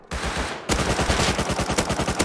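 Loud, rapid gunfire from the video game Rust, a dense automatic burst of closely spaced shots running continuously for about two seconds, close and without any voices.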